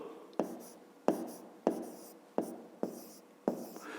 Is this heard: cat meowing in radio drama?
no